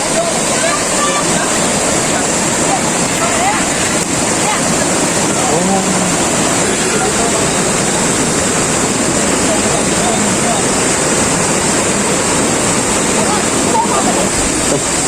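Steady, loud rush of the waterfall at Ton Phrae Thong in Phatthalung, a dense unbroken roar of falling water that fills the whole stretch with no pauses.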